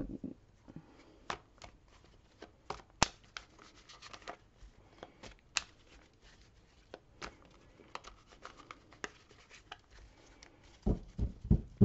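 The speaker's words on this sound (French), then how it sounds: "suis toujours aussi maladroite pour mélanger les cartes" Tarot cards shuffled by hand, giving soft papery riffles and taps in irregular bursts with sharp flicks, close and fairly quiet, with a few louder handling bumps toward the end.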